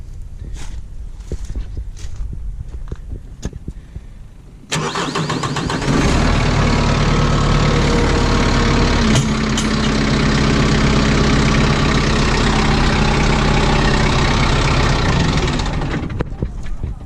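A Kubota M6060 tractor engine cranks and catches abruptly after some quieter moments, then settles into a loud, steady diesel idle; a voice can be heard around the sound.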